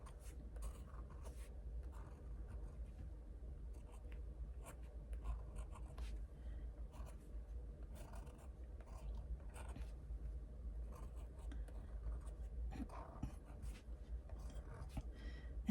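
Pencil drawing on paper, quiet close scratchy strokes in irregular bursts, soft and continuous with brief pauses, no talking.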